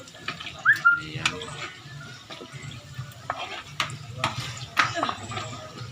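Putok-batok frying in a pan gives a light, steady sizzle broken by soft stirring and scraping, with someone speaking over the cooking.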